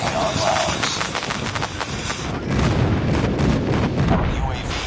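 Airstrike blasts in Call of Duty Mobile during a hardpoint match, dense rumbling booms and gunfire rolling continuously and loudly, with a deeper heavy wave of explosions in the second half.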